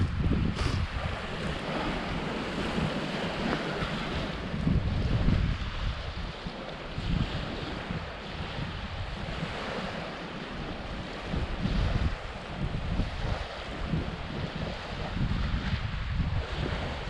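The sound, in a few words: waves and wind on a lake beach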